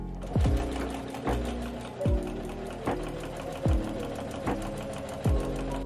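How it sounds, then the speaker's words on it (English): Sewing machine top-stitching the pockets of a patchwork denim jacket with double white thread, running in short close bursts separated by brief pauses, each burst starting with a distinct clunk. "I went with a double white top stitch to secure it into place."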